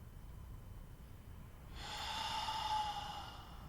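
A single long breath during a yoga pose, heard as a soft, airy exhale that swells gently and then fades. It sits close and quiet over a low room hum.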